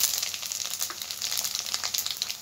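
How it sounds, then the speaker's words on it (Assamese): Panch phoron spices hit hot oil for an Assamese jujube pickle, producing a bright, steady crackling sizzle close by with quick popping bursts throughout. "পাঁচফোৰণখিনি ইয়াতে দি দিম"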